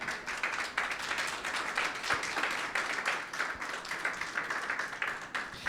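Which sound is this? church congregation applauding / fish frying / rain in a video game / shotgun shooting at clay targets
church congregation applauding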